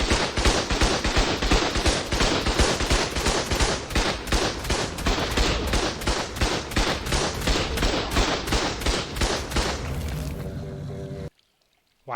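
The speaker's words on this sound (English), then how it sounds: "Apparently, I should turn the turrets up a bit." Automated turrets fire in ARK in a dense, continuous barrage of rapid shots, loud and close, for about eleven seconds before cutting abruptly to silence.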